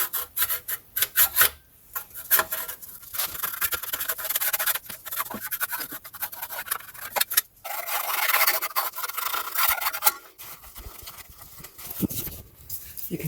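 A gentle hand tool rubs and scrapes dirt and rubber residue off a metal engine part on a Peugeot Citroen Ford 1.6 HDi, a close, continuous rasping with brief pauses in the strokes.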